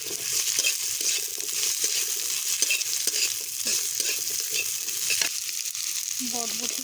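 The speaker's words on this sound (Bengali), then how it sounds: "কেটে রাখা আলুগুলো দিলাম, নাড়াচাড়া করে লাল লাল করে ভেজে নেব।" Chopped potatoes with green chilli stir-frying in a pan, a continuous close sizzle with repeated scraping strokes of a spatula and a few light clinks.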